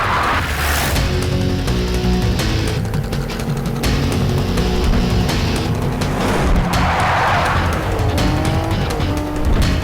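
A car speeds through a movie chase scene, its engine roaring loud and steady with tire squeals and skids, under a dramatic music score.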